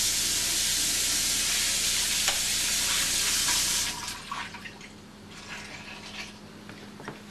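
Steady rushing stream of very hot water pouring into a container to disinfect it for several seconds, then stopping, followed by quieter clinks and handling sounds.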